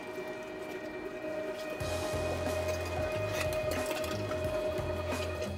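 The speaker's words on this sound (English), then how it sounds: "We have our first pork mixture. Do a fine grind." A meat grinder finely grinds a pork sausage mixture, its motor kicking in after a quiet moment and then running as a steady, fairly soft mechanical whir with a low rhythmic churn.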